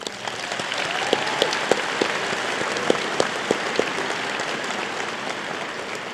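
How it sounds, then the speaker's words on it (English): Commencement audience applauding steadily at a moderate distance, a dense wash of many hands clapping with a few sharper individual claps popping out, no talk over it. "please help me recognize these accomplishments with a round of applause"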